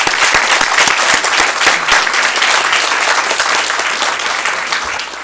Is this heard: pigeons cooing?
no